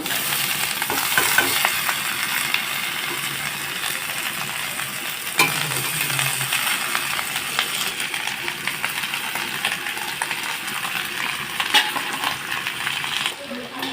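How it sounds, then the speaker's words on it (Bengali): Vegetables fry in a pan after a tempering of black cumin seeds, a steady close sizzle with scraping stirs and a few sharp clinks of a utensil against the pan, no talk. "সবজিটা একটু ভাজা ভাজা হয়ে গেছে"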